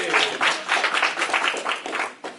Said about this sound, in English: Yes, round of applause for Worldwide Technology.